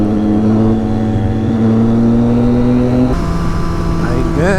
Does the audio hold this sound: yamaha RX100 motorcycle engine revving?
yes